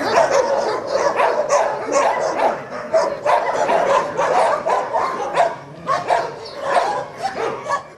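Stray dogs in a poorly kept Ukrainian shelter bark and yip loudly and continuously, several animals overlapping in a dense, close clamor, with a voice faintly mixed in.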